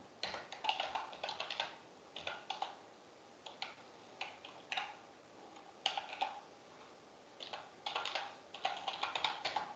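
Close, quiet computer keyboard typing in short bursts with brief pauses as a file name is entered while saving a Power BI file, with crisp clicky keystrokes and no voice.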